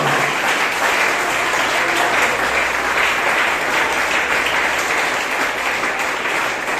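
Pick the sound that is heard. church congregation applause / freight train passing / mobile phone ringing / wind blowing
church congregation applause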